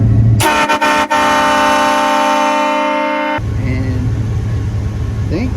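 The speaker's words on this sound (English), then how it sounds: "And then I put a train horn on there." A train horn fitted to a lifted Chevy Silverado 1500 pickup blasts in one long, loud, steady chord lasting about three seconds, then cuts off abruptly, leaving low engine or road rumble and background noise.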